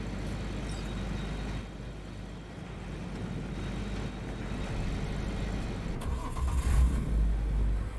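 Car driving in the video game Cyberpunk 2077, a continuous engine rumble and road noise that stays steady and close, rising slightly toward the end, with no talking.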